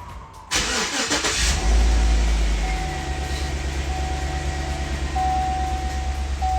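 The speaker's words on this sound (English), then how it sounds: "You gotta start the car." A Chevy car engine cranks briefly and catches, then settles into a loud, steady idle with a rumbling low drone and a faint whine rising over it, heard close up with no talking.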